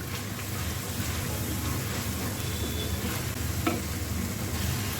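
Whole dried chilies sizzle in hot oil with a continuous hissing crackle, moderately loud and even throughout. A single faint clink is heard near the end.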